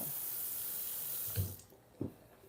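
Water runs from a kitchen tap into a sink while a strawberry cake is being made, a soft steady flow that stops after about a second and a half, followed by two faint knocks.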